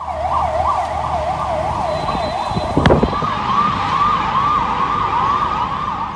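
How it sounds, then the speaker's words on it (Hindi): Ambulance siren wailing in a fast rising and falling yelp during the COVID pandemic, fairly close and loud over road traffic, with a sharp thump partway through and the wail then shifting to a slower sweep. "कोविड के दौरान एम्बुलेंस की आवाज हम सफर बनी रही।"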